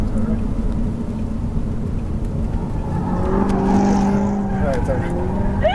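An Audi R8 engine on a racetrack climbs under full throttle with a rising, rasping tone over steady road and wind roar, close and loud, with no talking.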